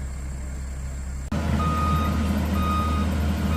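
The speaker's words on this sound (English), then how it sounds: "there's the beep beep beep, and you know that machine's rolling backwards" A road construction machine grading a roadway backs up, its reversing alarm beeping steadily and moderately near after a sudden cut, over a continuous diesel engine drone.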